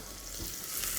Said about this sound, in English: I'm not coloring the onion, but just to sweat it quickly